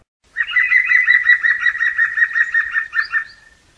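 A bird in a forest gives a rapid, even laugh-like song of chattering notes that runs for about three seconds, then stops abruptly, close and clear against a quiet background.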